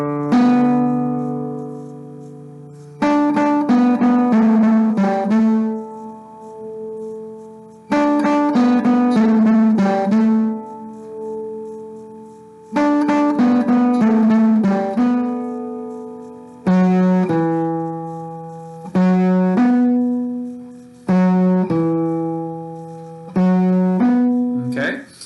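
A guitar plays a samba section: bright, plucked harmonic phrases in short repeated bursts, each note decaying, with brief rests between groups. It is close and clear, with no voices.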